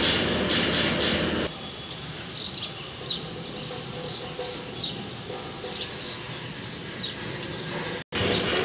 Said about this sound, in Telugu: ఈ ట్రైన్ చూడొచ్చు కాచిగూడ నుంచి రాయచూరు వెళ్ళే డెమో